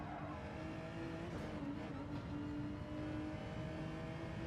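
A race car laps the Nürburgring in a racing video game, its engine holding a steady, loud droning whine with slight pitch shifts through a corner.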